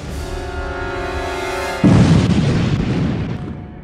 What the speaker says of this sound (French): C'est une violente explosion de gaz.